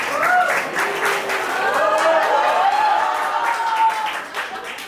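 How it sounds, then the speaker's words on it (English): Applause from a reunion audience of former students fills the stretch continuously and fairly loudly, with whoops and cheering voices rising over the dense clapping throughout. "Can we have a good round of applause, guys?"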